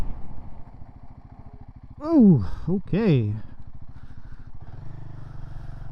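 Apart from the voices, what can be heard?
budget adventure motorcycle engine running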